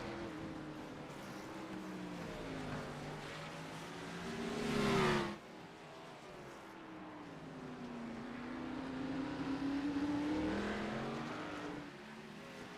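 Race cars on the Long Beach street circuit in 1988, slowing almost to a stop for turn 11. Engine notes drone and shift, one car swells loudly past and cuts off abruptly, then more engines rise and hold steady.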